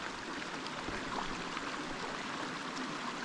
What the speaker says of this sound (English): we found a nice little spot to have lunch by a creek